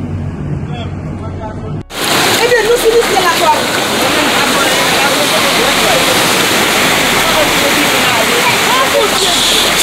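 Floodwater of a swollen river rushing past, a loud, dense, continuous roar that cuts in abruptly after a quieter start and stays steady to the end.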